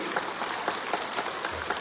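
A crowd applauding at a live political rally, steady soft clapping heard at a distance, fairly faint and even throughout.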